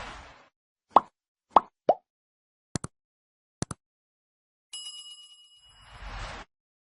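Notification bell sound effect: a series of crisp pops and clicks, then a bright ringing bell ding that hangs briefly, ending with a soft whoosh.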